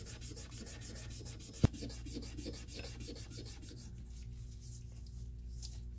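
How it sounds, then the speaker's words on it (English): Quad-aught steel wool is rubbed lightly over a firearm's exterior to lift brass residue, giving a steady, soft rhythmic scrubbing with one sharp click partway through; the strokes fade quieter toward the end. "get some quad-aught steel wool and lightly rub on it"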